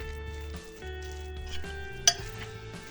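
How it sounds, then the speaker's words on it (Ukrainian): Soft scraping and stirring of cottage cheese with egg yolk in a bowl, with occasional light clinks of utensil against the side, over a steady low hum. "Змішую сир із яйцем."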